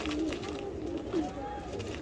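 Racing pigeons at a breeder's loft give soft low coos, two brief rolling calls standing out over a steady murmur of background birds and room noise.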